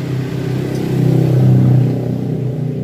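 A motorcycle engine with an adjusted CDI limiter revs up and back down, a loud steady buzzing idle swelling into a brief rise in pitch before settling.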